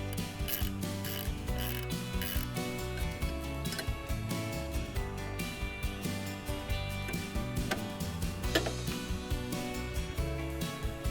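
A ratchet clicks in quick, steady rhythm while a bolt is backed out of a Cobra Fortis cylinder mower, close and continuous with a metallic mechanical rattle and no talk.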